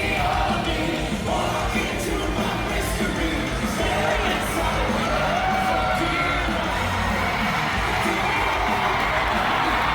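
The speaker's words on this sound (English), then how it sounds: "You look at any recording from Sonic Symphony and what do you see? The crowd going wild." A concert crowd at Sonic Symphony cheers, whoops and yells loudly and steadily, a dense roar of voices that stays full for the whole stretch.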